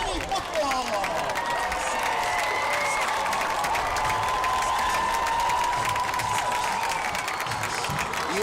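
A packed home football crowd at a varsity high school game cheers and applauds as the Creekside Knights take the field, a loud continuous roar with clapping and whistles throughout.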